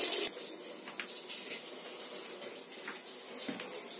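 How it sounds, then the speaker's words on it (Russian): Tap water runs into the detergent tank of an 11-year-old Samsung washing machine under repair, a steady gushing rush with a splashy start and small bumps as the flow shifts, with no talk. "Наливаю бачок."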